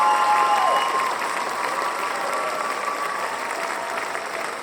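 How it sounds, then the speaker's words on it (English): Steady applause from a crowd at an awards show in the game Rec Room, dense and continuous, with a faint whistle or cheer at the start, holding at an even level throughout. "let's give a huge round of applause to Clover Bee and their team"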